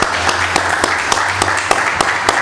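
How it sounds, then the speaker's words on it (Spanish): Applause for the team during an ordinary municipal council session in Miraflores; crisp, fairly loud clapping with a regular beat, likely a smaller group clapping in rough unison for the whole span. "quisiera solicitar un aplauso para el equipo"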